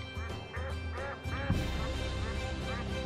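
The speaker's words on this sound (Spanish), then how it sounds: "porque estoy escuchando patos, no es coña" Ducks quack repeatedly in a swamp area of the video game Tales of Zestiria, a steady run of loud, close calls over a busy ambient game background, with no talking.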